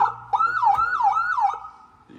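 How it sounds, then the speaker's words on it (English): A police siren wails up and down in a fast repeating sweep, loud and close, with no voices over it. "The sirens are just loud."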